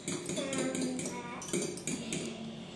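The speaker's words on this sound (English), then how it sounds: "I'm just going to make sure we beat that egg." Egg whisked with a utensil in a bowl for muffin batter, a rapid run of close clinking and scraping strokes in short bursts.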